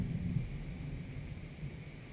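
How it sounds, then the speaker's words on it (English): Steady rain with low thunder rumbling from a storm outside, muffled through studio windows, faint and continuous with no voices. "I'm recording this one in the middle of a thunderstorm, which is coming through even my studio windows"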